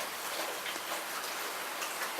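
Steady rain falls outside on a June day, a dense even hiss with soft scattered drops across the whole clip, no voices.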